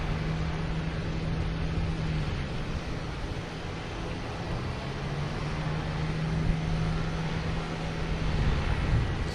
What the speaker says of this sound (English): So we got American Airlines heading 4 right. Taking off, heading to LAX, an A321.